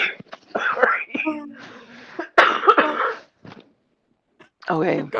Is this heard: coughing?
yes